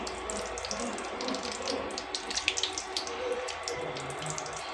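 Snack dough frying in lightly heated oil, giving a dense, steady crackle and sizzle with scattered sharper pops, close and moderately loud, with no voices.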